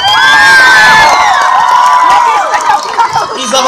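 Loud outdoor crowd at a park concert cheering and shouting, with high children's voices whooping over a dense roar and scattered clapping fading toward the end.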